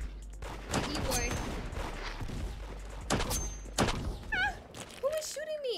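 Gunshots in the Roblox game Da Hood, several sharp cracks in bursts around a busy game soundscape, with talk over them and swooping electronic effects near the end.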